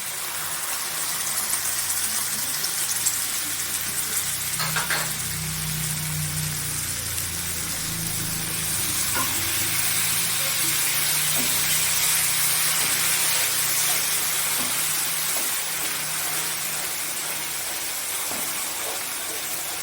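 Poppy seed paste being fried and stirred in a pan for a potato curry, giving a steady sizzling hiss with occasional scraping taps of the spoon.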